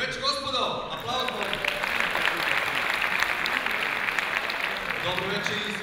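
An audience in a concert hall at the Lira music festival breaks into sustained applause, with dense clapping filling the room right after a brief voice at the start.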